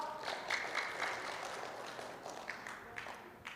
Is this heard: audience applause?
yes